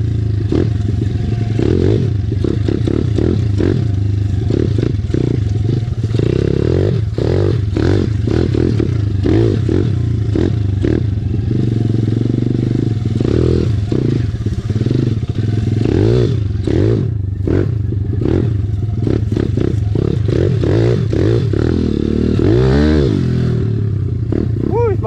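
An SSR 170TX pit bike runs loud and close on a backyard dirt track, engine droning steadily with revs rising and falling throughout, plus clattering and scraping from the ground; no talking.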